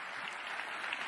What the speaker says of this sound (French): s'il vous plaît, applaudissez-le